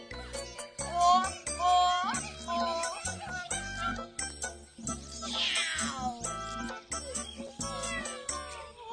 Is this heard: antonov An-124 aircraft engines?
no